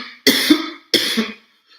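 Two sharp, close coughs in quick succession from someone narrating a devotional story, each a harsh burst with a short rasping tail, followed by quiet.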